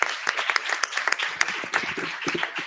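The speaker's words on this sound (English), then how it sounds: "Please give an applause." A conference audience at a youth climate and intergenerational equity session gives brief applause, with distinct, fairly sparse claps rising and falling over a few seconds.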